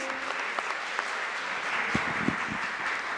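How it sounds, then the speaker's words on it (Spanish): An audience claps steadily, a dense patter of many hands filling the room, fairly close and continuous. "démosle un aplauso, animémonos todos"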